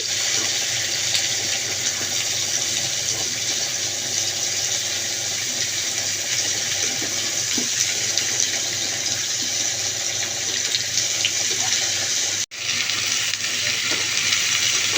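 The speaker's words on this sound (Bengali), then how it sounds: "এখন আমি পেঁপে আলুটাকে পেঁয়াজ কাঁচামরিচের সাথে একটু ভেজে নিব" Papaya and potato pieces frying with onion and green chilli, a steady close sizzle running throughout with a brief dropout near the end.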